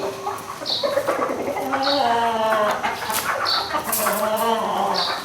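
Gamecock, a fighting rooster with a straight comb, gives clucking calls and short crowing bursts amid other nearby birds, with someone talking over the sounds.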